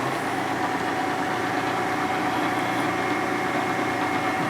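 An S&S 113ci Evo motorcycle engine running steadily at a changed RPM, a continuous close idle-like drone with even vibration and no talk over it.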